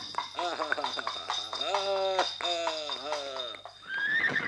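A horse whinnies in a long, loud, repeated neigh with a wavering pitch, made as a sound effect for a radio play, with voices speaking over parts of it.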